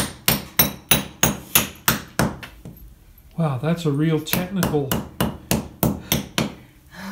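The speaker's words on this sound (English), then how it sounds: "Get my hammer and just whack this." A hammer whacks stained glass into frit: a fast run of sharp, loud, evenly spaced cracking blows, a pause while someone talks, then the blows start again at the same brisk pace.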